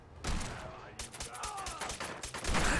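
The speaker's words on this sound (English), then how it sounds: "That's a shotgun. And it's legendary." Legendary shotgun blasts in Fallout 4, heard as several loud bursts of gunfire spread over a few seconds, mixed with game effects and a voice talking in between.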